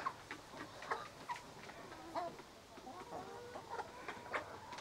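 Chickens in a chicken coop cluck repeatedly in short, choppy bursts at a moderate distance, with a faint background murmur throughout.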